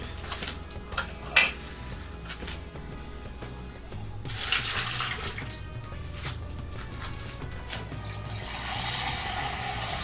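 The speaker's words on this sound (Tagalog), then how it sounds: "Ngayon po ay lalagyan po natin to ng tubig" Water pours and splashes into a metal pot amid clinks of cookware, the rushing growing steadier toward the end.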